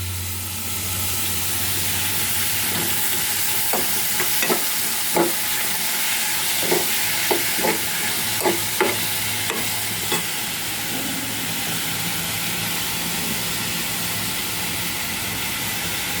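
Chopped tomatoes sizzle and fry steadily in a pan while a spoon scrapes and stirs in a series of distinct knocks, with a constant hiss of frying underneath.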